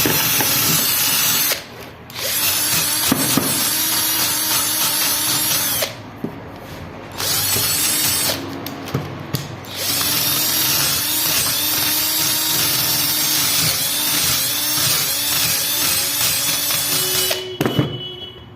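A power drill fitted with a wire brush scrubbing caked dirt off window air conditioner fan motor parts, loud and close, running in long bursts broken by short pauses.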